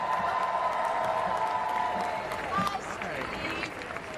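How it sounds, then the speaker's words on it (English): Brief burst of crowd applause at an LA Comic Con Star Wars panel, steady clapping with some cheering under a speaking voice. "How about another giant round of applause for these two incredible people?"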